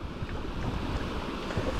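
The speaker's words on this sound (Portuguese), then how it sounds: "essa aí é a cachoeira que tem" A low-flow waterfall at a campsite in Penha Longa, Minas Gerais, gives a steady, broad rushing wash of falling water, continuous and fairly close, with no voices.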